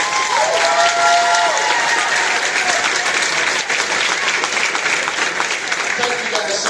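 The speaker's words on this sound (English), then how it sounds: "How about another round of applause for this wonderful group this week?" Audience applause for an intermediate school band at a spring concert, steady and loud throughout, with a faint voice and a brief whistle-like tone early on.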